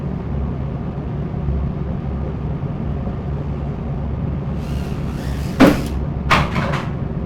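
A BetaFPV Cetus X FPV drone crashes indoors, a sharp hard impact followed by a couple of smaller knocks after a steady low motor drone.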